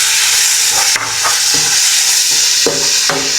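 Two medium tomatoes frying in a pan for chicken afritada, a loud, steady sizzle close up, broken by several spoon stirs and scrapes against the pan, with no voices.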